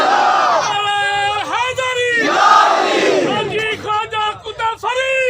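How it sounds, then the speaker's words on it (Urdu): A crowd at a religious gathering shouts a slogan in loud, chanted unison, with a leader's call and massed replies rising and falling in repeated bursts. "اچھا ادھر منہ کر کے نعرہ سنائے"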